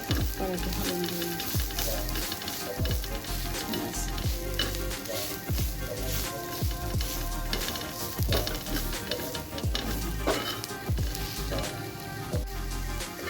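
Bitter gourd sizzling and frying in a pan on a griddle while being stirred, with a steady dense crackle and repeated scraping strokes of the spatula, close and continuous with no talk.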